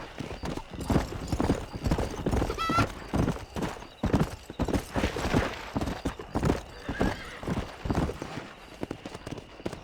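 Horse riding in the Red Dead Redemption video game: rapid, steady clip-clop of galloping hooves with a whinny, loud and close, under bits of talk.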